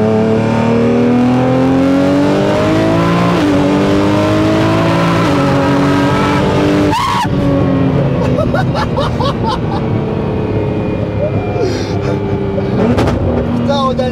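A 1500 hp Nissan GT-R R35 accelerating hard, its engine note climbing in long rising sweeps with a brief gear-change break, loud and sustained for the whole stretch, while excited voices talk over it inside the car.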